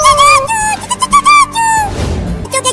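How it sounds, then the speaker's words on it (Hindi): Baby birds in a nest chirp with high, thin squeaky peeps in rapid repeated bursts, close and fairly loud, with a brief breathy noise in the middle. "बच्चों के चहचहाने की आवाज आ रही है"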